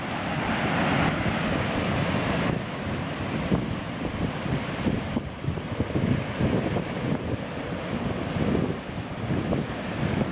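Sea waves crash against the bottom of a concrete sea wall on the North Norfolk coast at Overstrand, a steady loud roar of surf and spray mixed with wind buffeting the microphone, with no talk.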